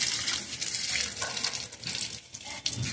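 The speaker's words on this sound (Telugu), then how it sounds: "బీరపాదుకి అయితే పోస్తున్నాను" Leftover rice and dal washing water poured onto a ridge gourd plant in a home garden, a steady splashing trickle across the whole stretch with no talking.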